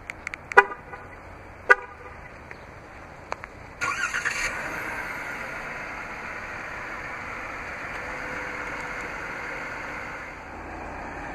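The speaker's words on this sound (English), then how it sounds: "To operate is easy, just double press the remote start button on the key fob." A 2017 Chrysler Pacifica Limited starts remotely from its key fob: two short horn chirps, then the engine cranks and catches, settling into a steady, quiet idle heard from nearby outdoors.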